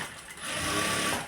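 A sewing machine stitches a blouse in a quick, continuous whirring run, loud and close, rising slightly in speed partway through.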